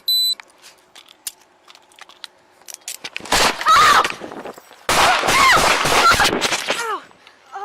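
Gunshots fired during a police arrest at Phillips and Hickory, two loud rapid bursts of shots close by, following quieter clicks and beeps and followed by shouting.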